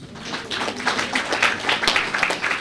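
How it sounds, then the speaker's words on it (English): An audience at a conference session on socio-cultural issues in the Exumas, Bahamas, gives a steady round of applause, a dense patter of many hands at moderate loudness with no talk over it. "give her a round of applause"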